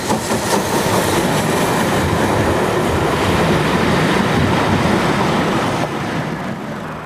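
A steam train rumbles steadily past at close range, a loud continuous roar with rhythmic clatter from the wheels.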